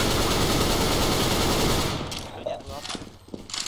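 Rapid automatic gunfire from a competitive video game rattles loud and dense for about two seconds, then gives way to quieter scattered shots and game noise.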